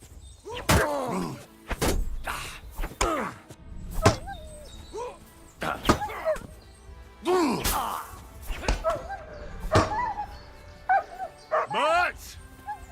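A dog in the medieval video game Kingdom Come: Deliverance II barks repeatedly, mixed with yips and whimpers, among game voices and occasional thuds.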